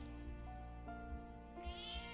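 A cat in a video game gives a short meow over a steady, soft musical background, with no talking.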